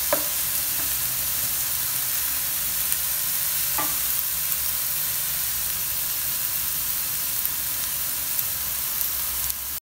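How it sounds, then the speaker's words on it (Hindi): Garlic and onion sautéing in a pan for homemade pizza sauce, giving a continuous bright sizzle with a couple of soft clinks of stirring, steady and close. "गार्लिक और ऑनियन को हमने ब्राउन नहीं करना, इनको हमने सिर्फ सोते करना"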